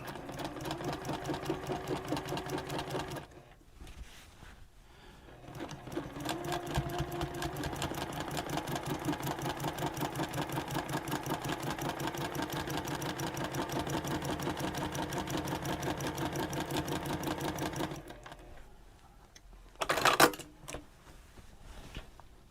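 A sewing machine runs in a long steady stitching burst through quilt pieces, a fast even mechanical whir and needle clatter, close and continuous, with a brief pause to pivot the fabric and short bumps of handling at the end.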